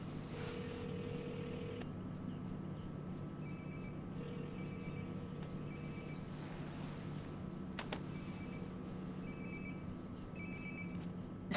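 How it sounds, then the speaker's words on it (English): A mobile phone rings nearby in the video game Life is Strange: Before the Storm, its repeated tonal bursts sounding over a steady ambient game background with no talking. "Sounds like my phone is definitely nearby."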